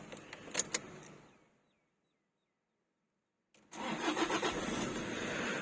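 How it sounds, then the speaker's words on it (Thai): A Toyota Vigo pickup engine cranks and catches after a brief silence, started with a remote folding key, then settles into a steady, close idle. "ทดสอบระบบสตาร์ทเหมือนเดิม"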